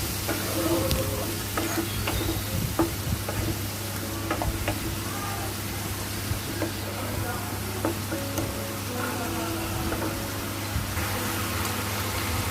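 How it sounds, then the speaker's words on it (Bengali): Ginger and green chili paste stirred with a little water in a hot pan while cooking a katla fish curry with potato and eggplant, a close, steady sizzle with repeated scraping stirs, some background hum throughout. "দিয়ে ভালো করে নেড়ে চেড়ে নেব।"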